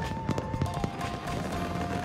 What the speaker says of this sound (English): Summer in Japan means fireworks lighting up the night sky.